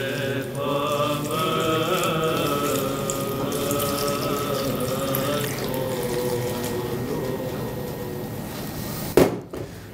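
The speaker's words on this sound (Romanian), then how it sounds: "După ce am pus sarea și oțetul, adăugăm apa, cât ouăle să fie acoperite." Tap water runs steadily into a pot holding eggs with salt and vinegar, being prepared for onion- and beet-dyed Easter eggs. The close, continuous gushing lasts about nine seconds and ends with a short clunk.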